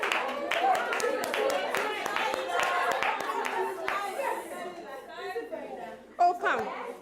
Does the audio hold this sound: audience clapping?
yes